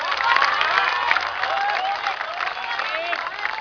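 A crowd at an election rally in Ahmedabad for the 2012 Gujarat election claps and cheers loudly and continuously, with shouts and whistles rising over dense applause.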